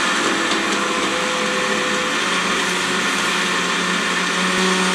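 A PBG-5050 personal blender with a glass jar runs on high, giving a loud, steady motor whir and churning that continues unbroken from start to finish.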